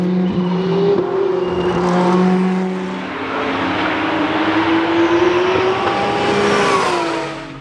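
Race cars, including a Ferrari, on the Anneau du Rhin circuit, with loud engines roaring and shifting pitch as they brake and accelerate past, several cars overlapping close by without a break.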